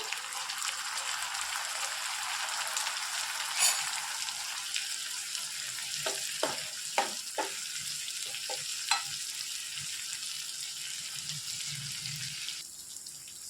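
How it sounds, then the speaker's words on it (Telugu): A pan of eggplant and green pea curry with tomato sizzles steadily, with faint clinks and stirring taps in the middle and a softer hiss near the end, and no one speaking. "మొత్తం ఇందులోని కలిపేసుకొని ఫ్రై చేసుకోవాలి ఒక పెద్ద టమాటా కట్ చేసుకొని వేసుకోవాలి"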